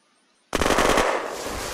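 Fully automatic fire from a gold AK-47 in the survival game Unturned, a loud, rapid burst of shots starting abruptly, then a lingering, ringing tail as the firing stops.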